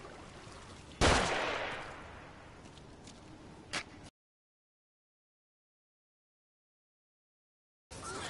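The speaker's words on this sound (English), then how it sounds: "Find cover. They're shooting." A single loud gunshot cracks in The Evil Within on PS4 and decays quickly, followed a few seconds later by a softer, shorter report before the sound cuts out.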